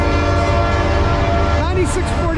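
Eastbound Norfolk Southern freight train with triple locomotives roaring past close by at about 50 mph, its loud rumbling engines and wheel noise steady throughout as the horn sounds near the end.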